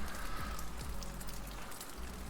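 Steady rain pattering on a surface, a dense continuous hiss of drops with a few faint low thumps, even and moderately loud with no voices.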